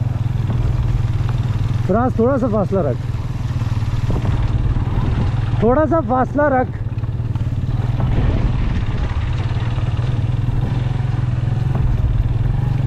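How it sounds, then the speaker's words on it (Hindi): A motorbike rides along the Karakoram Highway with a steady, droning engine hum throughout. Voices talk over the engine noise at several points. "बाइक राइड कर रहे थे।"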